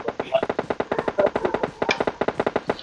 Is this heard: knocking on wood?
no